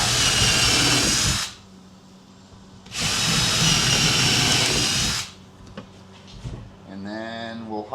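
A power drill bores screw holes in a wooden race ramp in two loud, steady bursts with a short gap between them, followed by lighter handling noises and a whining drill start at the end.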